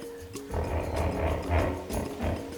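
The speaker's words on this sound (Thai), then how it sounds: "นี่เสียงฮิปโป" A hippopotamus in a hippo pool at a zoo gives deep, rumbling roars in repeated throaty pulses, loud and fairly close, with no talk over them.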